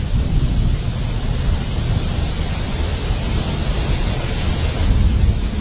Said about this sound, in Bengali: এই রে জোরে বৃষ্টি শুরু হয়ে গেল